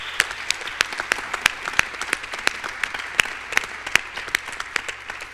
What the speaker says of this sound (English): Can we give our panelists one last round of applause?